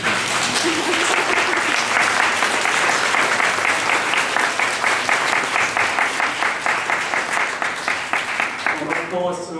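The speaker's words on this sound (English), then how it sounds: "So please give another round of applause" Sustained audience applause after a public lecture, loud and continuous, settling into rhythmic clapping before a voice begins speaking at the very end.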